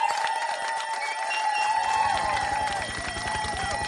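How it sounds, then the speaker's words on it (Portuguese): Applause and cheering from the audience of a Portuguese television variety show as a performer takes the stage, quickly joined by music with a sustained tone and a steady rhythmic beat. "Um forte aplauso."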